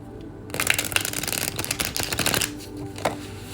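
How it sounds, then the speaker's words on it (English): Tarot cards riffle and snap in quick, crisp bursts close up, followed by a softer pause and a single light flick. "I'm just shuffling my cards"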